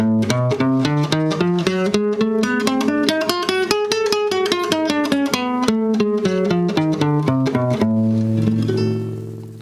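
A rapid run of notes climbs up and back down an eight-note scale of alternating half steps, repeated in quick succession, ending on a held chord that fades.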